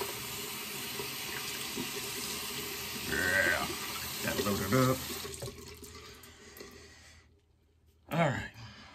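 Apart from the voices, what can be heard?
water running and being dumped in a sink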